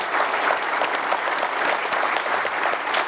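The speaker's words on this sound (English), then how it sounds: "Let's give a round of applause to our panelists" Audience applause for a panel at a Miami partnership event with Cleveland Clinic, a steady dense clapping from a full room that fills the whole moment with no voices over it.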